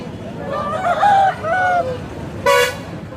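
A rooster crows twice in drawn-out calls amid busy noise at the large Tallapalem poultry market, followed by a short sharp vehicle horn toot.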